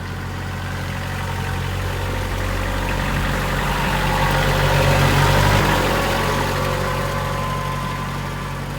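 A tractor engine idles steadily nearby, a loud low rumbling drone that swells slightly midway and settles again, with no talking.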